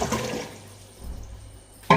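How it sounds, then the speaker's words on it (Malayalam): Water from a bottle is poured into a bathroom floor cleaning lotion mix, giving a short gurgling splash that fades over about two seconds, with a brief sharper splash at the end. "ലാസ്റ്റിലെ 8ാമത്തെ കുപ്പി വെള്ളം കൂടെ ഒഴിച്ചു കൊടുക്കുക"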